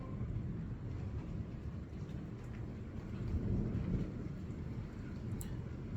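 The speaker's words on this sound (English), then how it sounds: "You supposed to watch the storm with me, Shadow" Thunder rolls through a thunderstorm under a tornado warning, a continuous low rumble that swells and fades with steady rain hiss, heard from indoors and fairly faint.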